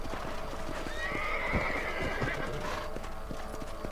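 Horse hooves clip-clop at a steady walking rhythm in the Western video game Red Dead Redemption, with a horse whinnying midway over a continuous outdoor background.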